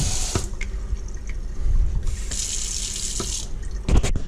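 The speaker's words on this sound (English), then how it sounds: "Cold water, hot water." Water runs from a newly replaced kitchen faucet into a sink, a steady hissing stream that surges louder in bursts as the flow is switched between cold and hot, with a few clunks of handling.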